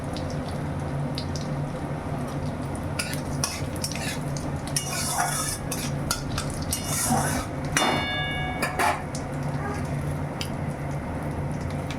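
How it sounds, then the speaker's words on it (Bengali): Whole cumin seeds temper in hot oil, heard as a sizzle under metal-on-pan stirring scrapes and clinks that come and go, along with some faint background sounds. "তেলের মধ্যে আমি গোটা জিরে ফোড়ন দিয়ে দিলাম"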